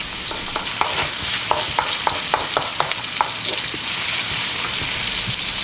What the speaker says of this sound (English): We're going to follow this up with 1 cup of onion, and we're going to cook this for 3 minutes. High heat, stir often.